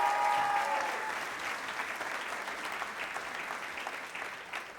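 Audience applause for a guest invited on stage, a steady wash of clapping from a crowd that stays dense and fairly even across the whole stretch, with no talk over it.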